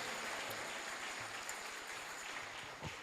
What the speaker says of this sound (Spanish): vamos a aplaudirle, aleluya